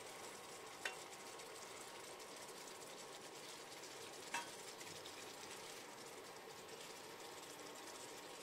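Eggplant and tengra fish frying in a pan in a village-style kitchen, a steady, quiet sizzle that holds evenly throughout, with two faint clicks breaking in briefly.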